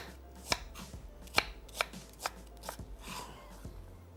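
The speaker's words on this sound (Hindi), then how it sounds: "चॉपर मशीन में शामिल कर देना है आहिस्ता आहिस्ता।" Onion being chopped with a chopper for a home-kitchen recipe, a run of about nine sharp, evenly spaced chopping knocks, close and fairly quiet, with no talking.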